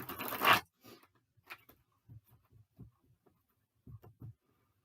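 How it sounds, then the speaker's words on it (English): Tarot cards are shuffled with a short, dense riffling burst up close, then a scattering of faint soft taps and card clicks in near quiet. "I'm going to shuffle the cards."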